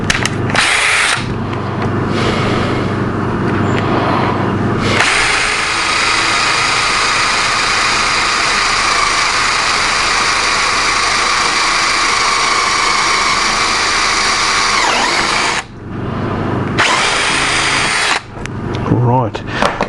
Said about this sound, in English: hopefully drill this out